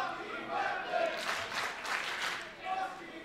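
A divided crowd at a Barrie Wrestling event in March 2023 swells into applause and cheers for Josh Alexander, rising and falling in waves. A commentator's voice runs underneath.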